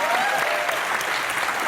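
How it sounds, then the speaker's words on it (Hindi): Brief burst of audience clapping during a live stand-up comedy show, steady and fairly loud for under two seconds. "फिर किस चीज पे तालियां बजा रहे हो?"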